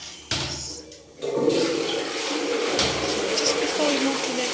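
A toilet flushing in a bathroom being cleaned, a sudden rush of water that swells into a sustained churning gush and refill, close and loud.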